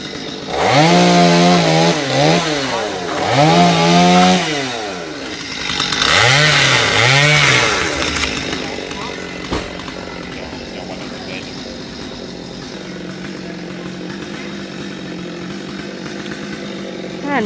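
A loud chainsaw cutting a dead, dry coconut tree in a cramped spot revs up and down in several surges, then settles into a lower idle as it trails off.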